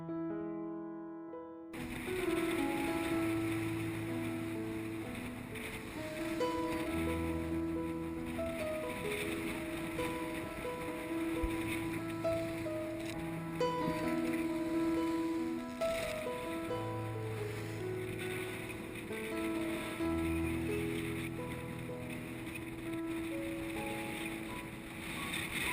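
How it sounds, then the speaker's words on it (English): A sailboat beating into the wind near Union Island, with steady rushing wind and water noise and low wind buffeting on the microphone throughout, loud and continuous with no talking. "Even though this was a beat into the wind, it was still a short sail up to Union Island."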